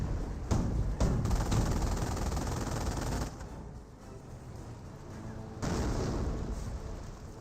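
An incendiary mortar barrage in the Company of Heroes video game lands as a series of heavy booming bursts and rumbling explosions at fairly low volume, with a brief lull before another blast.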